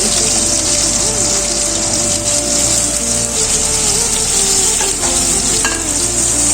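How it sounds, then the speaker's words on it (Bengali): Capsicum, onion and green chilli cubes sizzle steadily in hot oil with a bright, constant hiss, accompanied by occasional stirring scrapes and a low hum underneath. "ভাজার তেলের মধ্যে দিয়ে দিচ্ছি ক্যাপসিকামের কিউব পেঁয়াজের কিউব কাঁচা লঙ্কা কুচি"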